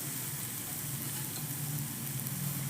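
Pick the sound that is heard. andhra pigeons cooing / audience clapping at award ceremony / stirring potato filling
stirring potato filling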